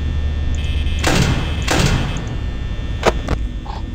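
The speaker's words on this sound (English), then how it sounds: "I'm scared to open this door." Door in the video game Five Nights at Freddy's, with two heavy whooshing slides and thuds in the first two seconds, then two sharper clunks near the end, loud over a steady electrical hum.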